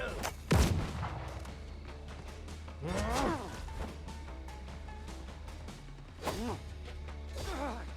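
Ships in the video game Windrose fire cannons, giving several booming blasts with whooshing, crashing impacts over a low rumbling bed. The shots come in uneven bursts, the heaviest near the start and others spaced through the clip.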